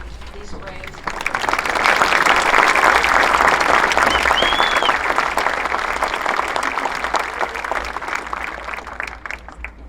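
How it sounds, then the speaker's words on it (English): Sustained applause from a large crowd at an outdoor high school graduation ceremony, swelling after a second and holding steady and dense before easing slightly toward the end. "Please join me in clapping and congratulating these braves."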